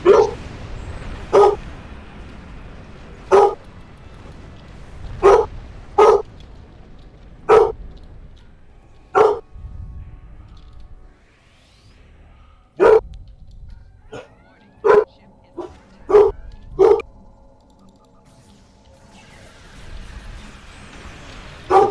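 A dog barks in a video game, sharp single barks and yips spaced irregularly over a quiet background, some in quick pairs, close and fairly loud.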